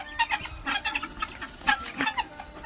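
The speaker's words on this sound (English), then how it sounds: "This is the Guinea hen." A guinea hen on a farm in arid Burkina Faso gives a rapid run of sharp, scratchy clucks and chattering calls, close by and fairly loud, with no talk.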